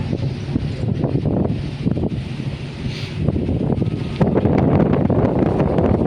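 Wind buffets a microphone on the seaside promenade at Saint-Pierre, Réunion, a constant loud rumbling roar with gusts that swell and ease, stronger toward the end, and no voices.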